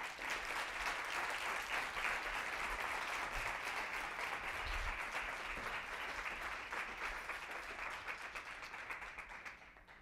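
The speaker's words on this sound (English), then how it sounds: "Get one more round of applause for" An audience applauds at a college event, a dense, steady wash of clapping sustained throughout before tapering slightly at the end.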